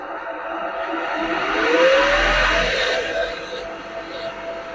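A 60 V DC motor drives a 3000 RPM alternator that is lighting a 1200 W load. It runs with a steady mechanical whine that rises in pitch as it revs up, then settles into a constant hum, with some faint background noise.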